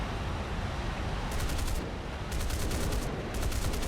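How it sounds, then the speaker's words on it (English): Bursts of machine-gun fire strike a Vampire FB.5 jet from behind in War Thunder. Three rapid, loud rattling volleys cut over a steady jet-engine roar, with no voices. "Oh, I'm getting shot from behind."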